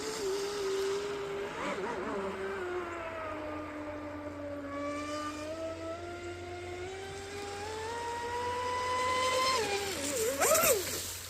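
A Proboat Impulse 32 radio-controlled boat runs at half throttle, its electric motor giving a continuous whine whose pitch slides and rises as it moves across the water, at moderate distance and swelling louder near the end.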